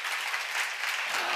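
A congregation at a church seminar gives a brief, full burst of clapping, even and close.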